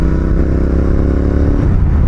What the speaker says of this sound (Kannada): so red rooster silencer ಹಾಕ್ಸಿದ್ದಕ್ಕೆ beet ನೋಡ್ರಿ ಹೆಂಗೆ ಕೇಳಿಸ್ಕೊತಿರಲ್ಲ ಬೀಟ್